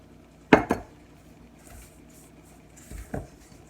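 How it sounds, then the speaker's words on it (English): A spoon scrapes and clinks against a bowl while graham cracker crumb crust mixture is stirred, two sharp knocks at the start and another pair later, close and fairly quiet with no talking. "Stir that together."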